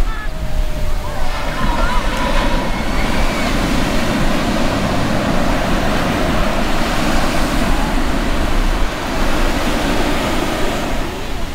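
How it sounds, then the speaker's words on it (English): Big ocean waves break on the small sandy beach at Kua Bay (Manini'owali), Hawaii, as a steady, loud roar of surf with wind buffeting the microphone throughout, while a person talks over it. "Oh, here's a big wave."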